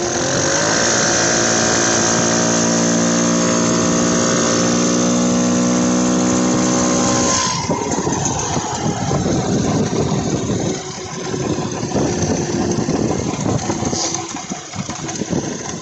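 A Tecumseh 139cc two-stroke engine on a CVT motorized bicycle idles loudly and steadily up close, its droning buzz turning rougher and more uneven about halfway through.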